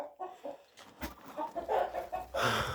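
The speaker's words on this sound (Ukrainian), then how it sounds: "І три, і три індички." Turkeys on a farm giving short, choppy gobbling and clucking calls in several bursts, fairly close, with the calls growing louder and denser toward the end.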